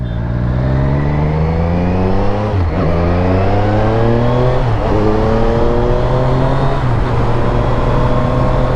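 A Triumph Street Triple RS motorcycle engine revs hard while being ridden in track mode, loud and close, climbing in pitch through several gears with brief dips at each shift and a steady rush of wind underneath.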